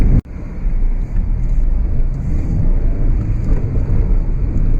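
A Mini Cooper Chilli accelerating on the road, heard from inside as a loud, steady engine and road rumble with wind noise and no talk.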